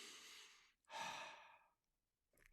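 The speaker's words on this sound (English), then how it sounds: "3 breaths again." Slow, deep breaths during a relaxation exercise, heard close and soft: a long exhale, a short pause, then another full breath that trails off, with no talking.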